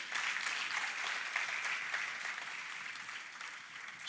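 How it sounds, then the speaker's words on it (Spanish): A church congregation applauds in a steady, dense wash of clapping that holds at moderate volume for several seconds. "Dale un aplauso al Rey de Reyes"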